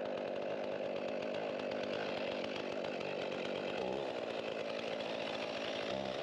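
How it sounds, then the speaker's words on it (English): A Stihl Farm Boss chainsaw cutting spruce or pine wood: loud, continuous close-up engine roar with rapid chain rasp, the pitch dipping briefly as the bar bites harder, no talking. "This is my trusty steel farm boss that I have, and I love it."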